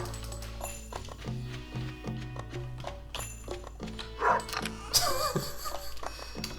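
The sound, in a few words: dog barking in video game Stardew Valley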